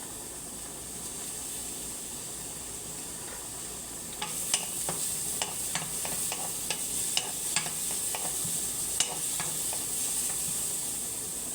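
Sliced white onions and mushrooms fry in a pan for chicken Alfredo pasta, a constant soft sizzle that turns busier midway with a run of sharp crackles and utensil taps, no voices.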